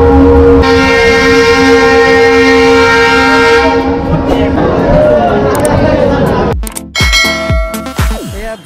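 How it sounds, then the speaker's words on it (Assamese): The Rajya Rani Express pulls into Dhubri railway station, sounding a loud, sustained horn up close for several seconds. Rumbling wheels and rhythmic clattering of the cars follow as it arrives. "10 মিনিট পিছত আমাৰ ট্ৰেইন আহিছে"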